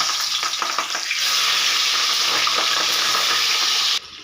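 Tilapia paturi parcels laid one by one into hot white oil in a kadai, giving a loud continuous sizzle with a few crackling bursts early on, then dropping off abruptly near the end.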